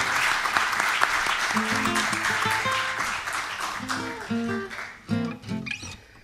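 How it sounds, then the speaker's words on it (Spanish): An audience applauds the singer Gabino Chávez at a live folk music show, heavy clapping at first that thins and tapers as instruments and tones begin to come through near the end. "vamos a aplaudirlo"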